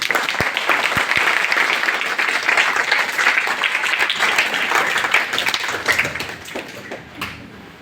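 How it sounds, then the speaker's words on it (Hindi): An audience bursts into loud, sustained clapping at a school science-centre event for International Moon Day, the dense applause continuing for several seconds before tapering off. "कृपया जोरदार तालियां बजाइए"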